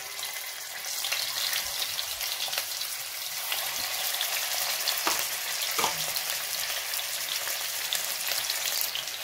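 Chicken frying in hot olive oil in a deep pot, a steady dense sizzle and crackle running the whole time with a few louder pops and spatters, close and without talk.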